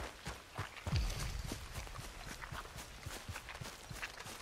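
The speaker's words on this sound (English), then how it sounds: "My boots are making squelching noises." Boots squelching through wet ground with each step in Red Dead Redemption 2, a steady run of soft footfalls heard close over game ambience, with one heavier low thud near the start.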